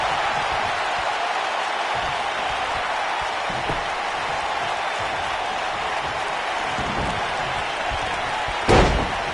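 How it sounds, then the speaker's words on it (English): A steady roar of a wrestling arena crowd in WWE 2K19 fills the background, broad and continuous, with one sharp slam near the end. "by the sound of this crowd, I think they're getting what they wanted"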